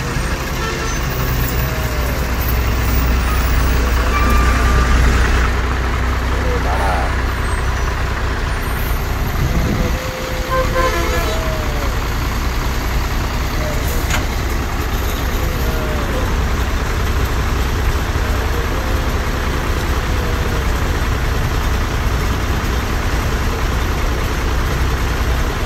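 Heavy traffic jam on a road near Ankleshwar, with trucks and other vehicles idling in a constant loud low engine rumble, steady throughout with a few brief horn-like tones.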